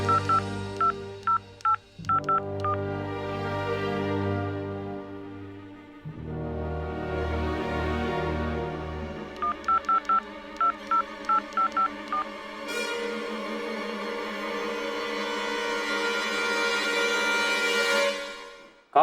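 A telephone number being dialed on a phone in a Bhojpuri TV serial: clear keypad tone beeps in several quick runs, separated by short pauses and longer held tones, close and alone with no talk.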